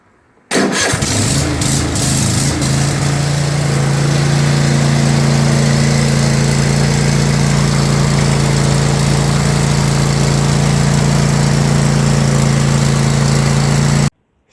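A Cub Cadet XT2 lawn tractor's Kohler 7000 engine starts after a brief crank and settles into a loud, steady running drone that holds close and unbroken for over thirteen seconds before cutting off abruptly.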